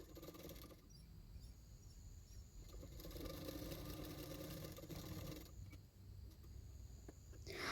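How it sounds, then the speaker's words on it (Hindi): A sewing machine stitches the side fittings of a size-40 double katori blouse, running with a steady mechanical whir. The motor briefly eases off before running on, close and fairly quiet, with no talking. "अभी मैं फिटिंग्स के लिए सिलाई कर रही हूँ।"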